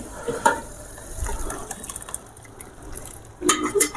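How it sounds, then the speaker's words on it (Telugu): Water poured into a pot of mutton dalcha during cooking: brief splashy pours near the start and again near the end, with quieter kitchen clatter between and no talking. "వాటర్ పోసుకోవాలి."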